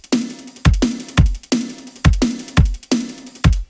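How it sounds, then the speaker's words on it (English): Acoustic drum kit played with room mics in a drum and bass arrangement, a loud close loop of punchy low hits each followed by a ringing snappy crash of cymbal and room tone, about seven strikes in steady rhythm. "The hi-hat itself, I did a similar thing with the room mics and stuff."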